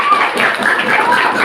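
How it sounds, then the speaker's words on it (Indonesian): Classroom applause for students during a geometry lesson on nets of solid shapes, a dense brief patter of many hands clapping at close range with no talk over it. "berikan tepuk tangan"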